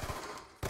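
A DSR sniper rifle fires in a trickshot video game match, a single sharp loud shot snapping in near the end after a fading tail of ambient game sound.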